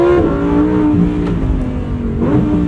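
A 2023 Lamborghini Huracan Tecnica with 631 horsepower revs loudly and steadily up close inside the cabin, with pitch rising and dipping through smooth gear changes from its 7-speed dual-clutch in sport mode.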